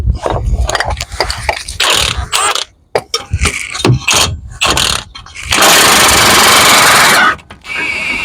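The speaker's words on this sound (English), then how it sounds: "Okay, I'm going to undo that center bolt now." A power tool undoes the center bolt of the front suspension arm on a BMW E92 3 Series, loud and close in stuttering bursts, then a sustained whirring run near the end.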